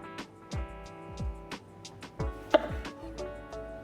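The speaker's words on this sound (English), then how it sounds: "And I'll slice a few tomatoes in the middle." A knife slices tomatoes on a cutting board in a steady rhythm of crisp close taps, with a soft musical tone in the background.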